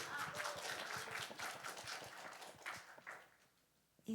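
A church group at a conference testimony session applauding, a fairly quiet, distant patter of many hands that swells and then tapers off toward the end.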